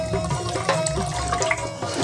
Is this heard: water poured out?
yes